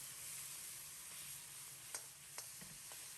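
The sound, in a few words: stir-frying pork with sauce in a wok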